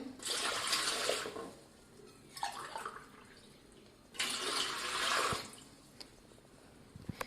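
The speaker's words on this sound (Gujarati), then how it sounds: "3 ગ્લાસ જેટલું પાણી છે એ અંદર ઉમેરું છું." Water poured from a glass into a metal dhokla steamer pot, two steady bursts of splashing pouring separated by a pause, close and moderately loud, with faint clinks at the end.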